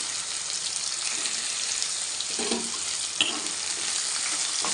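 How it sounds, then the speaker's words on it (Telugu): Ivy gourd pieces sizzle and crackle steadily in a hot pan with tempering spices, with a few soft stirring clatters; no speech. "మనం కట్ చేసుకున్న దొండకాయ ముక్కలు అయితే వేసేద్దాం"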